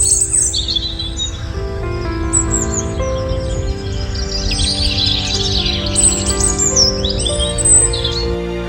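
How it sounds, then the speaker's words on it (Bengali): Birds call and chirp at sunrise in a cartoon, a dense, continuous chorus of bright, loud tweets and trills over a low steady bed of sound. "পাখিরা ডাকল।"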